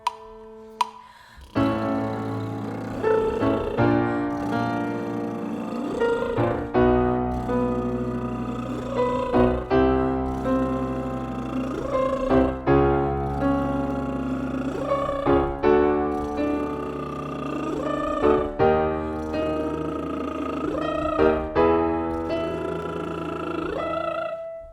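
A voice does buzzing lip trills that slide up and down an octave in repeated phrases over piano chords.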